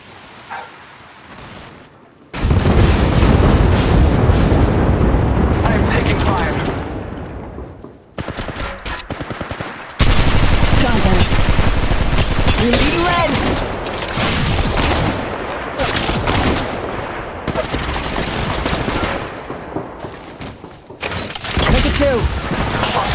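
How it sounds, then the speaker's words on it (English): Loud gunfire from the mobile battle royale game Apex Legends Mobile: dense automatic bursts and rapid shots that run for long stretches, with brief pauses, mixed with other game effects and voices. "Shots fired."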